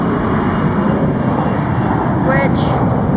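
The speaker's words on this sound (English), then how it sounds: "Today, a 777-200 from London Heathrow," Jet engine roar of a Boeing 777-200 from London Heathrow passing near an airport, a loud steady broadband rush filling the whole clip, with a voice speaking briefly over it near the end.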